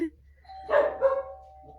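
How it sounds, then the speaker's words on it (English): A dog barks a couple of times in the background while someone paints with watercolour brush pens indoors, the short barks standing out over a low steady hum. "Oh, my dog's barking."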